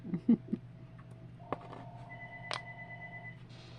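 A phone gives off a short electronic tone over a low steady hum, with a couple of brief beeps after it and soft tapping just before.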